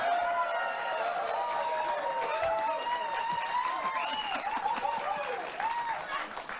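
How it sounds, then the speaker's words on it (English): A studio audience breaks into clapping and cheering, a dense steady burst of applause with a few whoops, followed by a brief voice near the end. "I didn't expect applause there"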